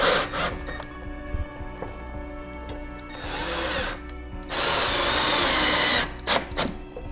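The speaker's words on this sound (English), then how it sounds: "we'll screw in the brackets to the studs." A power drill drives screws through fireplace mounting brackets into wall studs while an electric fireplace is installed indoors. Loud bursts of whirring and grinding come up close, separated by short pauses and clicks.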